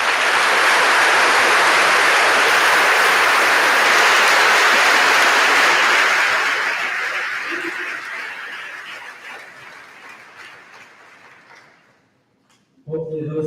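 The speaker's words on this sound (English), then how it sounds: "We can give those individuals a round of applause." A large audience at a 2024 high school graduation ceremony claps for standing teachers and administrators. The dense, loud applause holds steady, then gradually fades to quiet before a voice returns.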